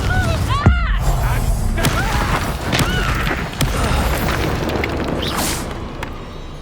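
Confringo fire spell blasts in a Hogwarts Legacy fantasy battle, with repeated booming impacts and thuds over a dense, continuous layer of game combat noise and effects.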